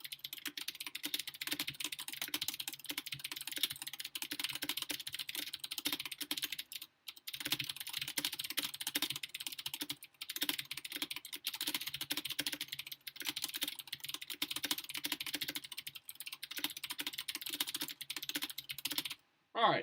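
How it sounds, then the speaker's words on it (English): Rapid, continuous clicking of a computer keyboard during a Nitro Type race, quiet and close, with brief pauses between bursts of keystrokes and no talking. "It is a hot keyboard sound."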